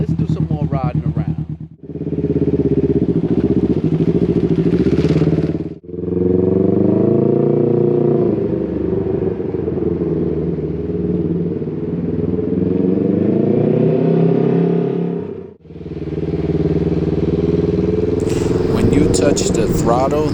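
A Can-Am Ryker three-wheeled motorcycle in city mode rides and accelerates, its engine droning loud and close with rising and falling revs, brief throttle lifts between pulls and wind buffeting.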